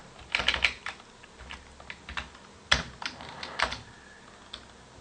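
Quiet typing on a computer keyboard, with scattered key clicks in short irregular bursts and pauses, close by with no talking.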